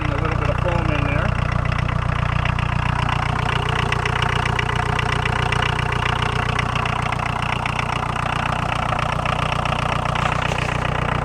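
A Volkswagen 1.6-litre diesel engine in a caravan, left to sit for seven years, idles steadily and loudly with a constant rough clatter throughout, a voice speaking over it.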